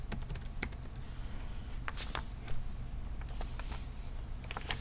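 Quiet typing on a computer keyboard as a server name is entered during failover clustering setup, with irregular clusters of soft key clicks over low background hum.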